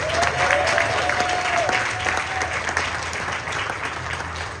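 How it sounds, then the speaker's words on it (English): A crowd at a Voces Tucsonenses event gives writer Henry Barajas a round of applause, dense, continuous clapping with a faint tonal whistle early on and a low hum beneath. "Now let's give Henry a round of applause."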